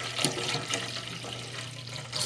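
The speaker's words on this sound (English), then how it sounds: "I'm gonna fill it up both of these containers" Tap water runs steadily into containers, a continuous close splashing and gurgling stream with brief surges, no voices heard.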